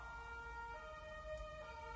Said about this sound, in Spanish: Estoy de las ambulancias hasta la cresta,